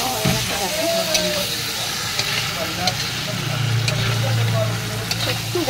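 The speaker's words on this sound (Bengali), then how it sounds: "এবার আমি চিকেনগুলো দিয়ে দেবো" Chicken sizzling and frying in hot oil for Bahari chicken, a continuous crackling hiss with stirring scrapes and a low hum beneath, steady throughout.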